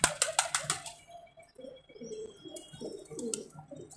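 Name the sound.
pigeons cooing in a loft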